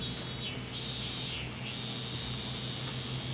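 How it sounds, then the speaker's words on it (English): Cicadas buzz in steady, shrill drones in the Yakuza: Like a Dragon video game, one insect call swelling and fading over a constant insect chorus with no talking. "Love the sound of the cicadas."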